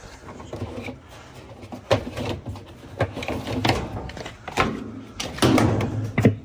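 The top panel of a GE single-agitator washer is popped open, with a series of sharp plastic-and-metal snaps, knocks and rattles at irregular intervals, up close and fairly loud.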